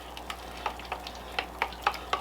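Salt and pepper being mixed in a bowl as a seasoning for Maryland pit beef, heard as a steady series of about eight close, crisp scraping taps with no talking.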